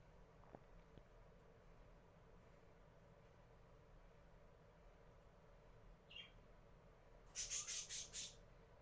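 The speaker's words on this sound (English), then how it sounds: "Oh, I hear the birds." A short run of sharp bird squawks, about five in quick succession near the end, follows a faint earlier call in an otherwise quiet room.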